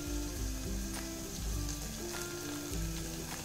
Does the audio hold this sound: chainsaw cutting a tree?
no